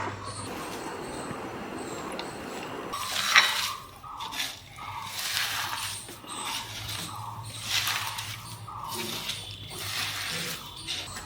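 Village-style rose apple salad with chili powder, sugar, coriander leaves and chopped chilies mixed by hand in a bowl: after a quiet start, rhythmic wet squelching and clattering bursts repeat close by.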